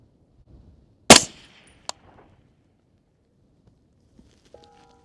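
A rifle fires a single sharp, loud shot at a target at night. A short decaying echo follows, then a faint click and near silence with small scattered ticks.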